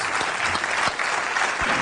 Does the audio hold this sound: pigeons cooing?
no